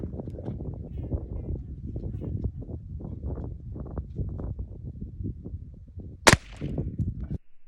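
A break barrel air rifle fires an exploding pellet at wood, giving one sharp, brief crack near the end, after a stretch of steady low rumbling noise.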